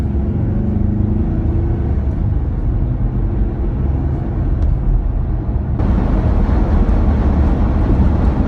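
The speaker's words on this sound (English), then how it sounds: "we are driving on the highway here, doing about 67 miles per hour" A Jeep Gladiator fitted with an S&B cold air intake and hood scoops cruises on the highway at about 67 mph. Its loud, steady cabin rumble of engine, tires and road noise brightens slightly toward the end.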